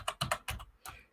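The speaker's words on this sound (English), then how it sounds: "I'm going to type something here." Keystrokes on a computer keyboard as a comment is typed, five or six close, clicky bursts in a quick uneven rhythm, no talking.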